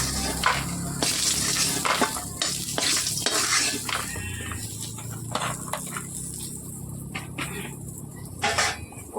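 Bori lentil dumplings fry in oil in a wok with a crackling sizzle, while a ladle stirs and scrapes against the metal in repeated knocks, heard up close.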